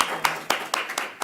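A few scattered handclaps from a small audience at a public school board meeting, about five sharp claps spaced evenly over a second, fairly close and moderately loud.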